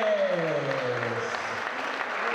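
A boxing crowd claps at a fight night as boxer Manos de Piedra Núñez of Tijuana is introduced. The applause is dense and steady, and a ring announcer's drawn-out voice fades beneath it at the start.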